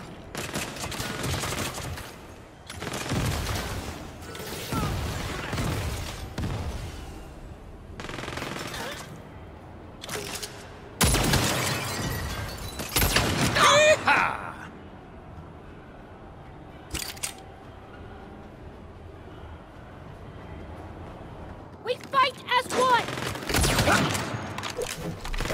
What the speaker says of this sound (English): A fucking minigun.